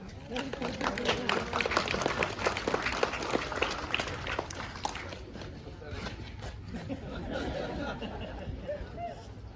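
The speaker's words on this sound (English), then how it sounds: "would deserve a round of applause." A crowd of visitors at Sovereign Hill, the gold-rush heritage site in Ballarat, claps in sustained applause mixed with chatter and bustle, steady and moderately loud throughout.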